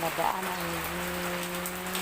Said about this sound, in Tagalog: buong maghapon na po ang ulan